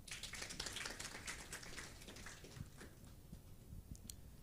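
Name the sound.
audience applause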